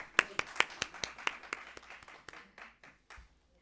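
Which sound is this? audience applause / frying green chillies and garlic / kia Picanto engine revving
audience applause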